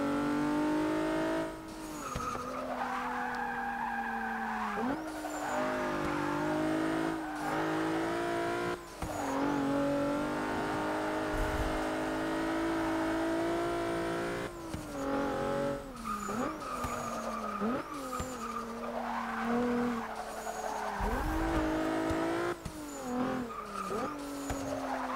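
A 2014 Volkswagen Golf R in Forza 6 races hard, its engine revving up and down through gear changes while the tires squeal and skid through corners, loud and continuous.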